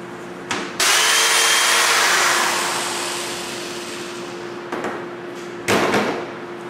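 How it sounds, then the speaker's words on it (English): A power drill bores a hole into the end of a wooden duck silhouette stake, whining loudly as it bites in and then easing off, followed by a couple of short, close bursts, with no talk. "Drill a hole in the end of it"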